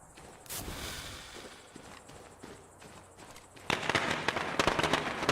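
Firecrackers set off in the video game State of Decay: a quieter stretch gives way to a dense burst of rapid, loud crackling pops near the end.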